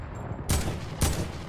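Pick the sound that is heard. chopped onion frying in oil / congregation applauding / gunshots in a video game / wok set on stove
gunshots in a video game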